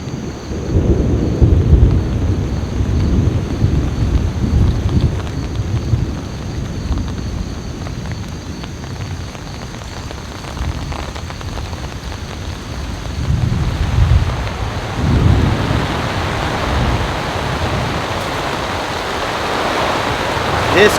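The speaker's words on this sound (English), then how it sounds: "This could be a nasty storm, everyone." Thunder rolls over a forest as an approaching storm builds, with wind-driven rain roaring through the trees in a steady, loud wash that swells at intervals, no speech heard.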